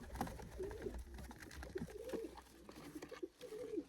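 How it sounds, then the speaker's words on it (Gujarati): Pigeons perched in pairs inside a pigeon room give soft, repeated throaty coos, faint and fairly distant, with quiet rustling between the calls. "આ બાજુ 2 કબૂતરી જોડ આખી બેઠી બારે કાઢી નાખો."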